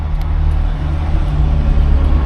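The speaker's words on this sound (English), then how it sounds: "Let this truck go by first." A truck going by on the road, heard as a loud, steady low rumble close by with no voices.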